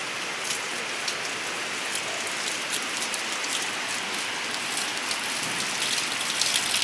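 Dense, steady downpour of heavy rain, a constant hiss with drops pattering on surfaces close by.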